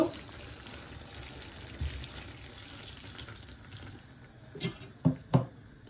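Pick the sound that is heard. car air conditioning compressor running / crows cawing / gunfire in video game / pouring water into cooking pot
pouring water into cooking pot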